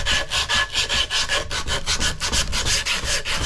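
Rhythmic back-and-forth rasp of 80 grit sandpaper on a large wooden war hammer handle, steady strokes of roughly even pace, close and fairly loud with no talking.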